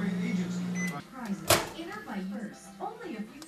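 A microwave oven hums steadily with pink marshmallow treats inside, a close, even drone that stops after about a second. Excited voices then talk over a few small clicks and knocks.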